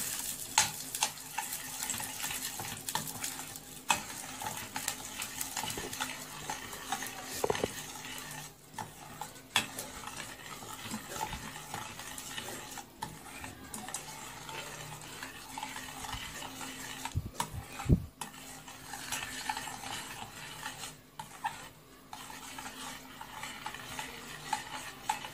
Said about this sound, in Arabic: هنقلبها لحد ما تسيح كده معانا مع صوص الكرمل